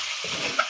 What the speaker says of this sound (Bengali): এবার মশলাগুলো ভালো করে নেড়ে কষিয়ে নিতে হবে।